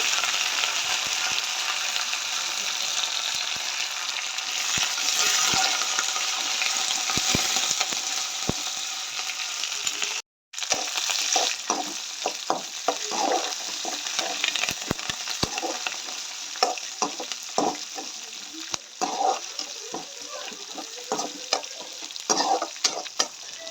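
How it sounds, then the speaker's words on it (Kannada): Drumstick leaves frying in an oil tempering, with a steady broad sizzle and frequent scraping, clicking stirs of a spoon against the pan, broken by one brief gap. "ಒಗ್ಗರಣೆಗೆ ಹಾಕ್ಕೊಂಡು ಸೊಪ್ಪು ಇದರಲ್ಲಿ ಸೇರಿಸ್ಕೊಂಡು"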